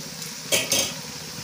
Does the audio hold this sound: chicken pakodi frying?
yes